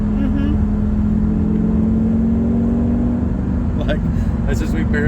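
A Lamborghini engine hums steadily while cruising in fifth gear, loud and close throughout, with a faint click-like shift near the end under continuous talking inside the car.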